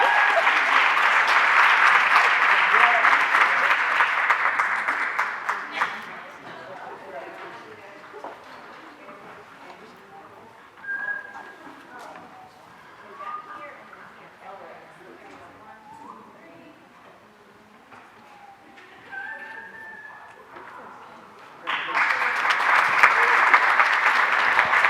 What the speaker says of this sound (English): Big round of applause for our last student